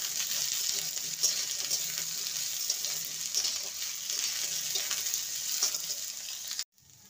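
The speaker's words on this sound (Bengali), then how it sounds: "এবার দিয়ে দেবো ফুলকপিটাকেও 2 মিনিট ভেজে নেব" Cauliflower and potatoes frying in a pan for nabaratna pulao, giving a steady, loud hiss of sizzling oil with occasional stirring sounds, which cut off abruptly near the end.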